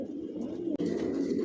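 Racer pigeons, a Mili racer breeding pair, give a continuous close, low cooing murmur, broken by one abrupt instant of silence midway before the rumbling coos resume.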